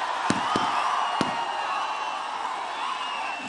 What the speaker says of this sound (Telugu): మీ నుంచి నాకు మరింత ఈ కేకలు, కేరింతలు, ఈలలు, చప్పట్లు